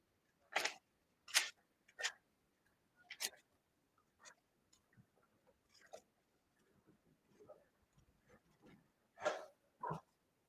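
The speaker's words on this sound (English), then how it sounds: "Shuffling papers here." Papers shuffle at a desk during a live stock-trading session, in sharp separate rustles and flicks spaced unevenly across the stretch, with quiet gaps between them and no talk.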